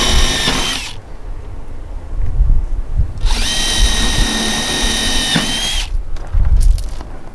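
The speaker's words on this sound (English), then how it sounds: "Now it's all drilled and ready to go." A power drill whines loudly through two long bursts while boring holes for door mounting screws, with a short pause between them and rough handling noises at the end.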